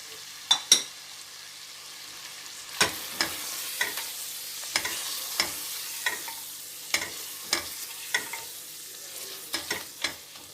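Mutton frying with red chili, salt and turmeric, a soft steady sizzle under repeated scraping strokes of a spoon against the pan, about a dozen clear stirs spaced through the passage.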